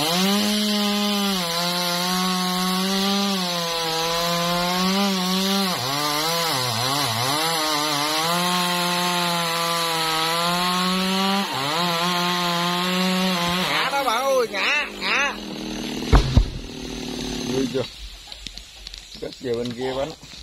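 A G4500 chainsaw cuts through a large dipterocarp tree near a market, its loud whining engine holding steady then wavering under load before cutting out, with voices in the background.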